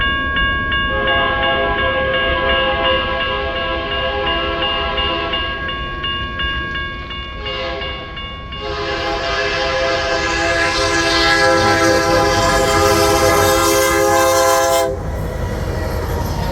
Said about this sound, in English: Running right past the one on the left is the crew train